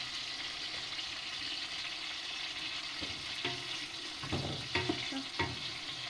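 Green peppers fry in hot oil on a wood stove, a steady broadband sizzle running throughout with a few sharper crackles and stirring clatters near the end, no talking.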